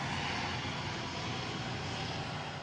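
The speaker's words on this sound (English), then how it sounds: "The C-17 Globemaster III is able to deliver supplies to almost any location" A C-17 Globemaster III military transport jet roars steadily, its engine noise a loud, dense, unbroken rumble and whine that fills the whole moment without pause.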